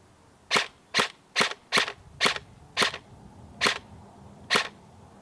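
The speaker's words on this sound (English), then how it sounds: "Without the flash hider shooting," Suppressed airsoft gun firing with a silencer fitted and no flash hider, eight sharp, clipped shots at irregular intervals, close and fairly loud over a quiet background.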